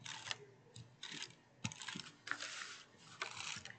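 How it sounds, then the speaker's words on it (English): Several short crackling bursts of a tape runner laying adhesive tape onto Dollar Tree decor during a craft project, spaced irregularly and fairly quiet, close up. "So now I'm just going to take my tape runner again"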